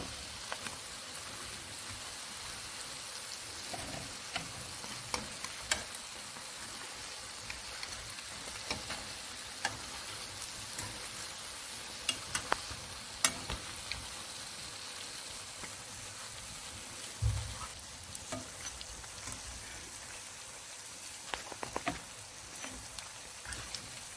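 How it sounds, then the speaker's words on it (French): Beignets gâteaux bubble in hot frying oil with a soft, continuous crackling hiss close by, broken by occasional sharper pops and faint clatter. "j'ai terminé de frire mes beignets gâteaux"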